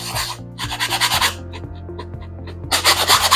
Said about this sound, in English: it's always ideal to give it a light sand